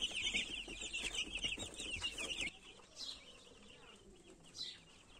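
Chicks and young turkeys in a brooder pen, with a dense chorus of high peeping and cheeping close by at the start, thinning after a couple of seconds to a few scattered chirps over quiet background.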